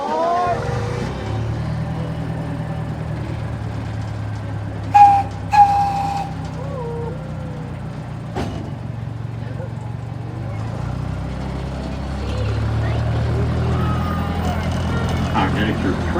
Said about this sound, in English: Our miniature train is being pulled by a 1/3 scale replica of the CP Huntington